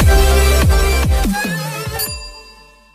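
A notification bell sound effect: a quick series of bright, ringing chime strikes, then a final ding that rings out and fades into silence.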